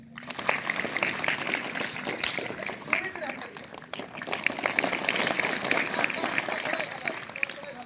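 An audience breaks into sustained applause, a dense, steady patter of many hands clapping with crowd voices mixed in, holding fairly loud for the whole stretch.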